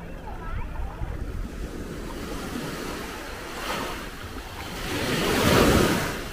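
Big ocean waves break on the beach at Dadonghai in Hainan, a broad rushing surf mixed with wind buffeting the microphone, swelling into a louder, closer wash near the end.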